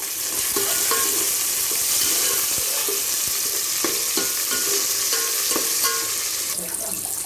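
Vegetables and tomatoes with green chillies and curry leaves fry in a pan for biryani, a steady loud sizzle broken by repeated stirring scrapes and clinks throughout.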